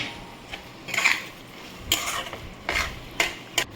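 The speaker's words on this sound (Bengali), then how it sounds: "দেখো এবার আমি ঢাকাটা খুলে একটু ভালো করে ঘাটিয়ে নিচ্ছি, মিক্সড করে নিচ্ছি ভালো করে।" A taro stem curry with a fish head is stirred and mixed in a pan, heard as a few separate scraping strokes and soft clatters of a spoon against metal, close by and with quiet gaps between them.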